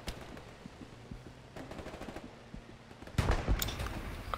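Bursts of automatic gunfire crackle through a shooter video game match, faint sporadic shots early on giving way to a louder, denser burst of fire near the end.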